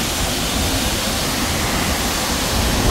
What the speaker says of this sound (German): da unten, wo das Wasser dann von dem Wasserfall abfließt